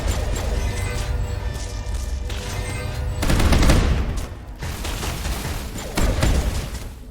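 Rapid automatic gunfire in the sci-fi shooter Mass Effect 1, a dense, loud, continuous fusillade with brief shifts in intensity and impact crashes, heard without talk.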